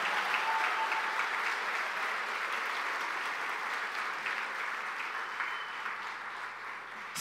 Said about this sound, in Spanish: denle un aplauso al Señor que está haciendo algo en su vida y en su corazón